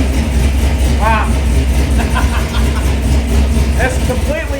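A stage 3 modified Camaro SS 1LE engine runs at a steady, loud idle with a deep low rumble throughout, after firing up. People talk briefly over the engine noise.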